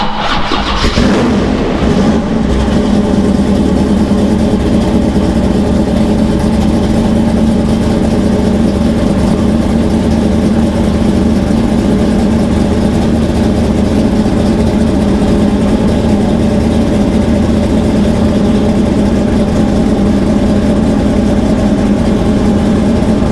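A Chevelle SS pro street car engine idling steadily after starting, a loud, constant low rumble with a deep throb that holds without revving for the whole stretch.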